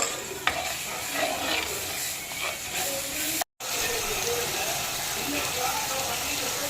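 Tomato and red chilli paste being stirred into pasta in a pan, a steady soft scraping and light sizzle running throughout at close range, with a brief cut partway through.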